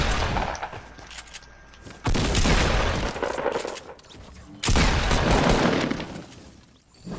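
Bursts of video game gunfire erupt in two long dense volleys, loud and close, with a quieter stretch of scattered shots between them during a fast-paced squad match.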